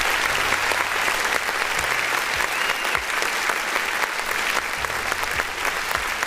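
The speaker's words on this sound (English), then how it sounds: "we just gotta clap for that right there" Sustained, dense applause from an audience at an independent-artist music review show, steady and loud throughout with no break, a few faint low tones underneath.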